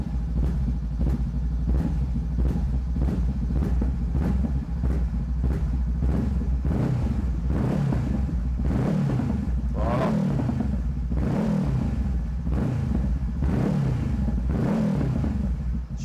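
Honda CB500F 2018 motorcycle engine running steadily near the listener, with a low rumble and a rapid train of small pops as the throttle is released; a voice speaks briefly.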